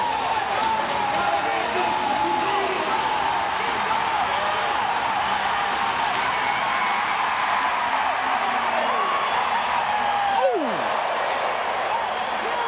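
Big arena crowd at a PBR Global Cup bull riding final, a steady wash of cheering and roar held throughout, with an announcer's voice carrying over it.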